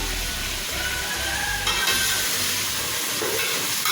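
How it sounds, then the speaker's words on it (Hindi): Onions, green chilies and tomatoes fry in hot oil for chicken pulao with a steady, loud sizzle and hiss from close by, and no voices over it. "अभी हम अच्छे से इसको 2 से 3 मिनट तक इसकी भुनाई करेंगे"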